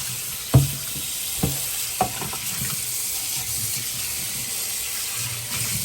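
Water runs steadily over a removed part of a Jura ENA 4 espresso machine as it is rinsed, a constant hiss broken by a few sharp knocks of the part against the sink.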